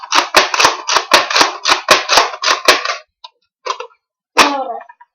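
A Nerf toy blaster is fired in a rapid string of about ten sharp, close clicks and pops, followed by a few scattered mechanical clacks as it is opened and reloaded.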